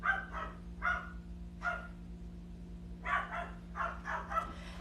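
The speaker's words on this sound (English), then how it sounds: "I apologize for my dog." A Pomeranian barks in short bursts indoors, a handful of sharp yips in two clusters, moderately close against a low steady hum.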